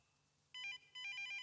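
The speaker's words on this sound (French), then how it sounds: "Il faut que je réponde au téléphone." A telephone rings in a French children's cartoon about Zou the zebra: two short bursts of bright electronic trilling ring, clear and close, separated by a brief gap, with no voices.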